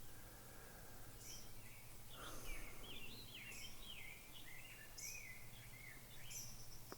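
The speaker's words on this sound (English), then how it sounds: "Hear the birds. Hear the lake. Hear the breeze in the leaves." Birds sing by a lake in a quiet outdoor setting, with scattered high chirps and warbling phrases coming faint and distant over a low steady hum of breeze and ambience.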